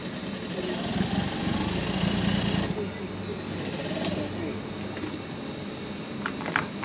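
Industrial sewing machine stitching down a bomber jacket welt pocket, a steady whirring motor run that stops partway, leaving lighter mechanical ticks, with a voice speaking over it.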